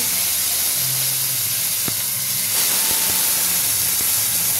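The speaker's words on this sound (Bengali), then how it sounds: "একটু ভেজে দিচ্ছি" Prawns fry in hot mustard oil in a wok, making a loud, steady, close-up hiss and sizzle with a few faint clicks.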